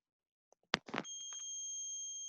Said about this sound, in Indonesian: kedengaran ya, ada suara buzzer selama 2 detik